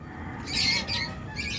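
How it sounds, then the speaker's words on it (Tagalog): A stray violet personata lovebird gives a few sharp, shrill squawking chirps in quick succession, close and fairly loud, with no talk over them. "Meron na namang ligaw na ibon."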